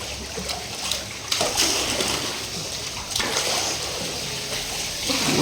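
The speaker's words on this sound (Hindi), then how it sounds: "तो हम पानी अच्छे से मार देते हैं आलू पे भी" Water is splashed over potatoes being washed, producing a continuous, close sloshing and splattering with a few heavier splashes.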